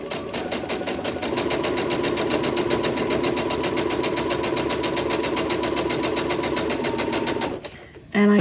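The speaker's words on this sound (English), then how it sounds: "I'm just going to stitch along." A sewing machine runs steadily, stitching a quarter-inch seam on a baby quilt, with a rapid even needle rhythm held close and loud for about seven seconds before stopping abruptly.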